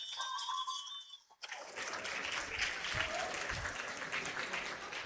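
Audience applause at a university faculty dean's awards ceremony, a dense sustained wash of clapping from a large crowd that bursts in after a brief quieter moment with faint tones, then continues steadily.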